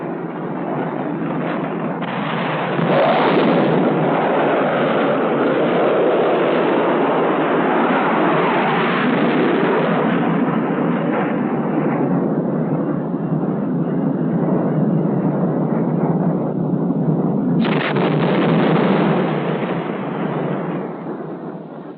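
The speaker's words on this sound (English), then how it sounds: "A test attack against immobile train targets was carried out by F-100s and F-104s." A continuous heavy roar rushes for a long stretch, swelling and holding, then dropping off sharply near the end, like a missile strike and blast: a Bullpup guided missile fired from a jet at immobile train targets in a 1963 US Air Force weapons test.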